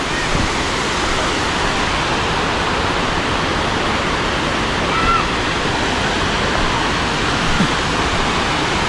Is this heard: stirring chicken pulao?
no